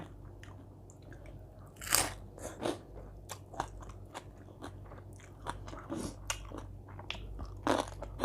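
Crispy Thai pork is bitten and chewed up close, loud crunches and crackling bites coming in irregular bursts over a quiet background, with no talking.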